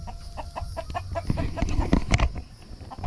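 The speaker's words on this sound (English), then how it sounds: "Easter egger rooster." An Easter Egger rooster clucks repeatedly in short, close, irregular bursts, with faint ambient noise and no talking.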